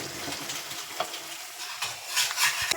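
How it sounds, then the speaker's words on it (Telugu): Onions and okra fry and sizzle in a pan while being stirred, a steady close hiss with scraping and stirring clatter that swells toward the end, with no talking. "ఈ ఆనియన్స్ బాగా వేగిన తర్వాత బెండకాయలు వేసుకోవాలి."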